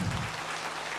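A crowd at a meditation gathering claps together in a dense, continuous wash of applause, steady and fairly close, lasting only a moment.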